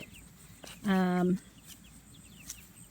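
Chickens kept in a movable chicken tractor in a yard, a single near, loud, drawn-out squawk or cluck lasting about half a second, with faint background noise around it.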